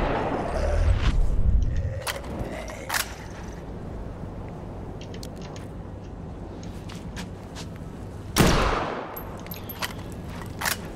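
Gunfire in the zombie game Dead Island 2, with several sharp shots standing out against a steady background of game ambience and a low rumble, including a loud burst near the end.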